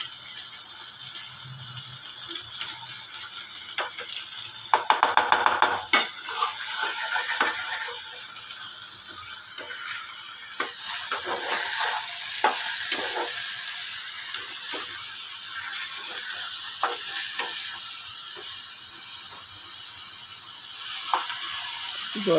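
Two packets of Maggi masala frying in oil for egg bharta curry, a soft steady sizzle with scraping stir strokes and a brief clatter of a spoon against the pan, close.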